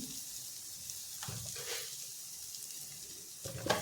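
Bitter gourd stir-fried with grated coconut in a pan, giving a steady soft sizzle with a few brief scraping stirs, close and alone without talk.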